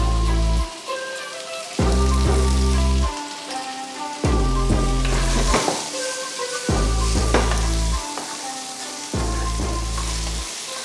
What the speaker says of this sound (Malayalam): കുറച്ച് കറിവേപ്പിലയും ചേർത്ത് നമുക്ക് വഴറ്റി കൊടുക്കാം.